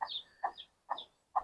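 Chickens on an integrated farm clucking in four short, sharp bursts spaced about half a second apart, close and fairly quiet, with no voices.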